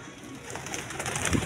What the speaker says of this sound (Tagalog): ang gandang kalapati ito mga kalodi